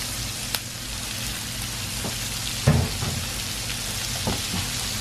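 Fried okra (bhindi) tipped into a hot pan of masala: a steady, rain-like sizzle runs throughout, broken by a dull thump as the okra lands and a few scattered clicks of stirring.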